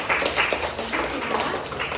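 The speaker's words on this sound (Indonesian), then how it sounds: "tepuk tangan dong buat Yoka" A classroom of students claps for a classmate during an Indonesian-language lesson, a short burst of scattered, uneven hand claps close by, with room noise underneath.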